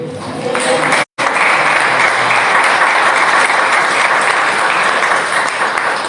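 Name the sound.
congregation applause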